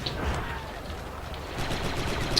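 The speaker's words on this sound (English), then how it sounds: "Elite beam rifle." Elite beam rifle fired in the Star Wars Republic Commando video game, a steady stream of rapid crackling shots that runs loud and unbroken through the whole stretch, with no talking over it.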